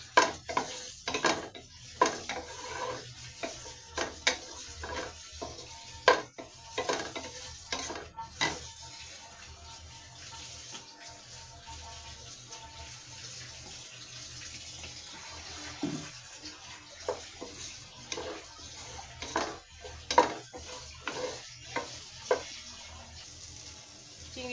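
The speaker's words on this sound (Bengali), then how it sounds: "চিংড়ি মাছ ভাজা হয়ে গেছে, বেশি ভাজবো না" Local shrimp cooking in a pan, with steady clinks and scrapes of utensils against the pan, a watery sizzle-like hiss underneath, and irregular sharp knocks throughout.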